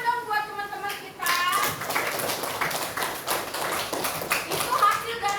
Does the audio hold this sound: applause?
yes